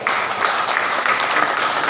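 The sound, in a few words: audience applause for talk show guest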